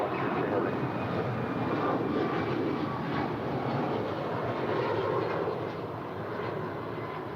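An airliner takes off from runway 25 left at LAX, a broad continuous roar of jet engines holding steady and then easing slightly, heard from a distance without anyone talking.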